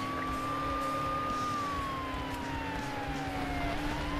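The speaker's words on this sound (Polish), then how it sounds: "Znaczy podjedź, włącz syrenę i na pyrze i zatrzymaj." A police car siren in the racing game Need for Speed: Hot Pursuit wails in a steady, sliding tone over a constant rumble of engine and road noise.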